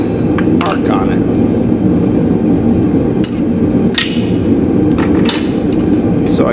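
Hammering on hot steel with a hot cut to mark it, heard as a few sharp metallic strikes over a loud, constant roar, likely from a forge blower, with a voice speaking underneath.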